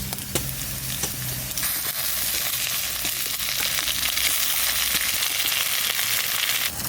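Steady sizzling and crackling of taro flowers frying in a pan with onion, garlic and shrimp, with occasional sharp pops and stirring scrapes, loud and close.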